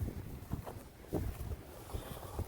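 Wind blows on a day outdoors while a drone flies nearby, buffeting the microphone in low gusty rumbles that swell and fade in a few bursts against a steady breezy background.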